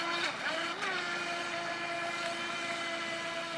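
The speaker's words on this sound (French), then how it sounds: "il va déjà pas mal vite pour un petit bateau comme ça" A small radio-controlled Aqua Mania model boat's motor whines at high speed, a steady thin tone with slight pitch shifts, moderately distant against wind and waves.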